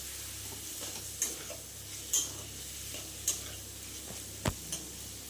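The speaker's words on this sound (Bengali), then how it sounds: "এবার আলু আর পেঁয়াজটাকে একটু ভালো করে ভাজা ভাজা করে নেবো।" Potatoes and onions fry quietly in a pan with a soft continuous sizzle, while a utensil stirs and scrapes against the pan in several sharp, separate clinks.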